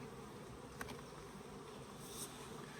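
Honey bees buzzing around an opened hive box, a soft continuous drone with a couple of brief louder passes nearby, faint throughout.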